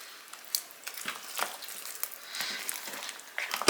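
Chicken, carrots and other ingredients being stirred in a crockpot, giving soft wet squelches and scraping clinks at irregular intervals, close and quiet.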